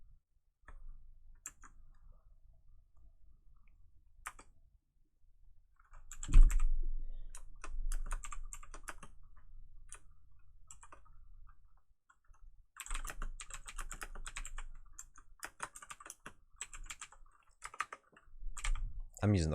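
Close-up keyboard typing comes in bursts of quick clicks with pauses between, plus a couple of louder thumps and some low background noise.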